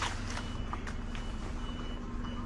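A bus from another town reverses through narrow streets of a small French town with its beeps steady and loud, reversing warnings repeating over a heavy diesel engine rumble and street noise.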